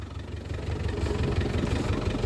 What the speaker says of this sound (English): She is running sweet. Man, I can't believe how well it's idling.